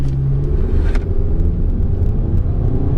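A Honda Civic Sport accelerating hard from a standstill toward 100 km/h, a loud steady engine drone and road rumble heard from inside the car, with no talk.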